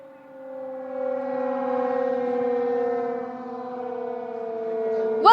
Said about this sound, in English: Gargi, you can hear the air raid sirens that are currently blaring